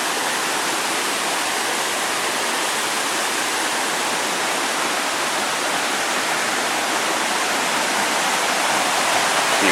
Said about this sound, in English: You walk right over the waterfalls.